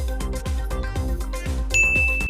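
A doorbell rings with a run of steady, evenly spaced ding tones close by, and a brief higher chime sounds near the end.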